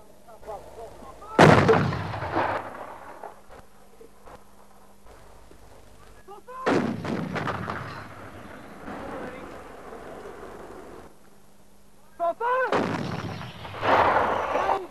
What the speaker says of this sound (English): First, though, the enemy was to be pounded with artillery.